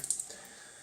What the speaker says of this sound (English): Hold on, let me just get the water out.